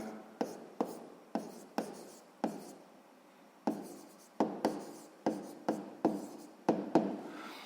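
Pen strokes writing out a check for a sixth-grade math exercise come as a series of short, close scratching bursts separated by brief pauses, with no talking.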